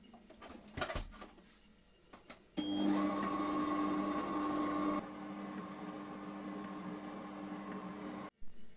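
Electric mixer whirring at low speed as it beats meringue mixture with vanilla, a steady motor hum that starts after a few knocks, drops slightly in level midway, then cuts off with a brief clatter.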